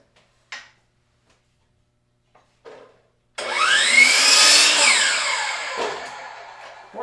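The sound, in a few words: circular saw cutting off scrap wood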